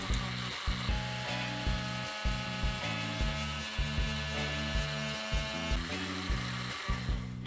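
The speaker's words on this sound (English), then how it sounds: "I'm going to just pour it in with the blender running in a very fine stream." A blender runs steadily while aquafaba vegan mayonnaise emulsifies, its motor whine close and constant with a regular, pulsing low rhythm as the mixture churns; no one talks over it.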